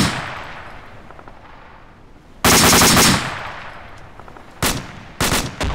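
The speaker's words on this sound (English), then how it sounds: "We're shooting at death lane targets." Bursts of automatic gunfire in the Arma 2 video game at shooting-range targets: a long loud volley, then a quieter stretch, then two more short sharp bursts near the end, with no talk.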